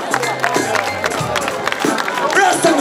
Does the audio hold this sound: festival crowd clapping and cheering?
yes